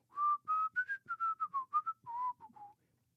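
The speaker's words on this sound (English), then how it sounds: "I do a little soft whistle" A soft, melodic human whistle, a quick run of about a dozen short clear notes rising and falling in pitch, close and alone before it stops.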